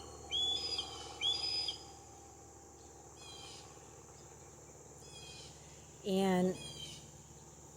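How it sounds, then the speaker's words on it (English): Several birds calling in alarm outdoors while a hawk circles overhead, with high whistling chirps in short bursts near the start and a louder, lower call around the six-second mark over faint background noise, and a brief spoken word. "I can hear all the other birds around starting to scream because whenever the hawk's around"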